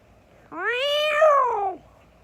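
A single drawn-out cat meow in a yard, rising then falling in pitch, clear and close against a quiet background.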